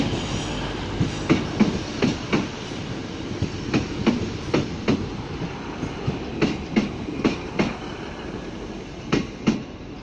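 A train pulls into Manchester Piccadilly station, its wheels clattering in steady clickety-clack bursts over rail joints, heard fairly close and continuous with a faint squeal, no talking.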